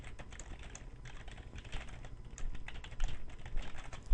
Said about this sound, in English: Type in a message here